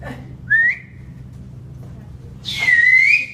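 A person whistles twice, first a short rising note and then a longer sustained one, both clear and fairly close over a low background hum.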